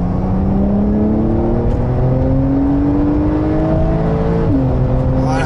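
A turbocharged Porsche 992 Carrera 4S engine drones steadily, its pitch rising smoothly as it accelerates, then briefly dipping at a gear change before climbing again; continuous and close.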